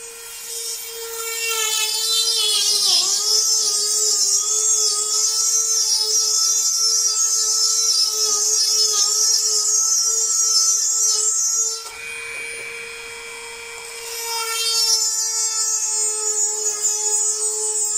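Stone being drilled during an experiment of boring holes in different kinds of rock, a steady whining grind with a strong tonal hum that runs unbroken, briefly dips and shifts pitch, then resumes loudly without any talk.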